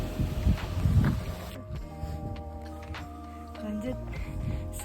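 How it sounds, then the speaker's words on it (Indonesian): Strong mountain wind buffets the microphone on the open savanna trail of Mount Merbabu, Indonesia, a loud rumbling gust at first that eases into a steadier roar, with faint low tones and scattered rustles. "Wow, kencang banget anginnya."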